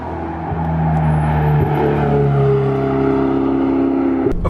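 A Ferrari 488 GTB with a turbocharged engine hums with a smooth, steady tone that rises in pitch through two gear changes, close and clear with no talking.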